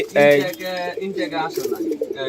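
Pigeons coo nearby in rolling, throaty calls, several overlapping phrases with short pauses between them.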